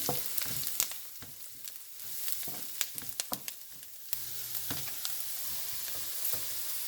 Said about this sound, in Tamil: பச்சை மிளகா போடுறேன் நல்லா வதங்கட்டும்